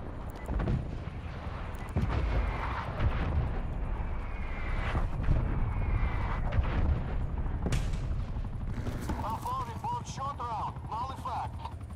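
Artillery strikes in a war video game land as scattered heavy booms and sharp cracks amid constant battlefield rumble, with a few louder hits standing out and voices shouting near the end.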